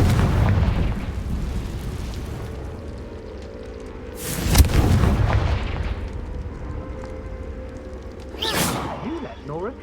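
The Confringo spell from the Hogwarts Legacy video game sets off loud blasts: a rumbling burst at the start, a sharp booming explosion midway and another crack near the end, each trailing into a fading roar over game music.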